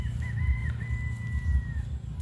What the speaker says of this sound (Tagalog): At ito guys, may tatlo na akong manok.